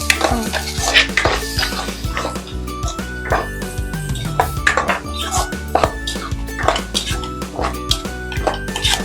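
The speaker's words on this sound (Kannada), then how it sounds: "ಇದನ್ನು ಫ್ರೈ ಮಾಡ್ಕೋಬೇಕು." Paneer curry gravy frying in a pan while being stirred, with a steady sizzle under repeated scraping and clanking of a spoon against the pan, loud and close throughout, along with a tonal hum in the background.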